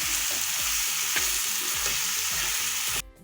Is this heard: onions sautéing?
yes